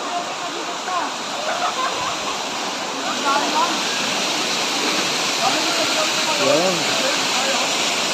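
A steady roar of falling water at Daranak Falls, Tanay, Rizal, with a light flow, loud and continuous, with a few voices talking faintly underneath.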